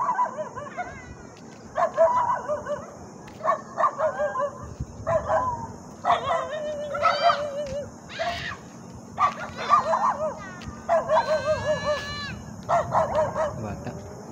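Dogs bark repeatedly at a subdivision fence in bursts of sharp, fairly close barks, with rising whines and howl-like cries in between and people talking over them.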